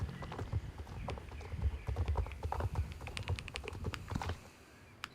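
Horse hooves clip-clopping steadily at a slow trot in a video game, close and fairly loud, with a continuous rhythmic patter and no talk over it.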